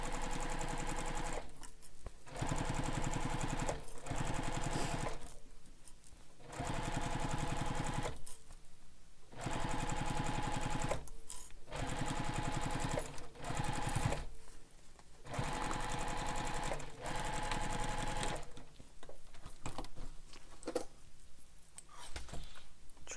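A sewing machine stitches across the top edge of a bag in bursts of rapid whirring, several runs separated by short pauses, with no talking.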